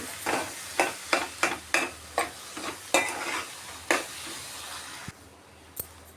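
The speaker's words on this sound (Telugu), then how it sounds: "ఎగ్ బుజ్జి కాబట్టి అంతా కలిపేసుకోవాలి" Egg bhurji stirred in a pan, a series of regular scraping strokes over a low sizzle, then a pause broken by two faint taps.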